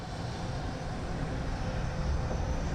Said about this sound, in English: I'll pan around to the aircraft inbound now. Wizz Air.